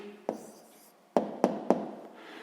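Writing an answer by hand for a sixth-grade maths exercise, a few distinct taps and scratches of a pen on paper, close and quiet with no talk.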